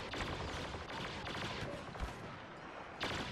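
Hip-fire gunfire in a shooter video game, a rapid dense stream of shots with a few sharper bangs standing out, steady and fairly loud throughout.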